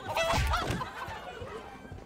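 An evil chicken in Minecraft Story Mode gives a short burst of clucking and squawking, close and fairly loud, followed by quieter background noise.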